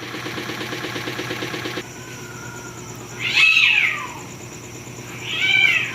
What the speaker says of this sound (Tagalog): Nag-aaway pang pusa oh.